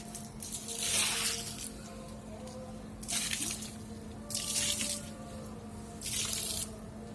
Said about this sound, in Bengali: এই যে চলুন জল দিয়ে দিই।